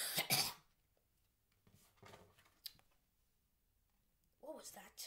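A single sharp cough bursts out at the start, followed by a few faint clicks and rustles, then a short, muffled throat sound near the end, all close and in an otherwise quiet room.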